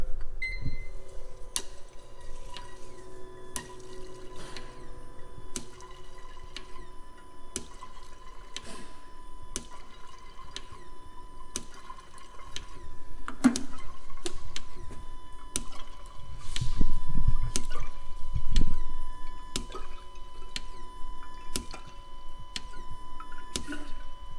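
Fuel injectors run upside down in a cleaning machine for reverse flushing, giving a rapid regular ticking pulse over a steady hum, with faint liquid dribbling and a louder swell of spraying fluid midway.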